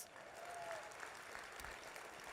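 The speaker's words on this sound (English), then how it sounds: "Give yourself all a round of applause." A breakfast event audience gives a round of applause, steady dense clapping from a crowd indoors, moderately loud and sustained throughout, with a brief voice tone rising faintly above it.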